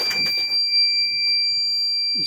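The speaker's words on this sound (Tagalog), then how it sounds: "Parang may nag-alarm ah. Alarm siya." Steady, shrill electronic alarm from a reefer truck refrigeration unit, sounding continuously up close, with a brief burst of mechanical noise at the start and a soft low rumble beneath.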